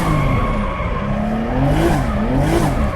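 A drift car slides on the handbrake, its tires squealing in a long, steady skid under a loud, continuous engine drone, with the pitch wavering as the car slides.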